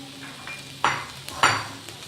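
A spoon stirs a potato cutlet mixture with finely chopped green chillies and coriander in a pan, giving two short, distinct scraping clanks against the metal over a quiet background.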